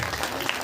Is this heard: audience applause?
yes